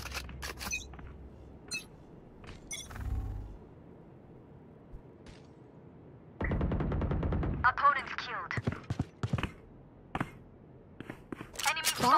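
Gunfire in the video game PUBG: a close burst of rapid shots, then a scatter of sharp single cracks and short clusters of varying loudness.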